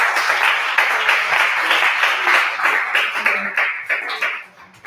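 Audience applause at a breast cancer awareness workshop, dense steady clapping from a room of people lasting several seconds before tapering off near the end.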